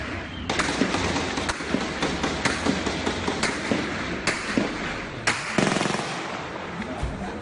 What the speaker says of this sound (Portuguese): é possível ouvir um intenso tiroteio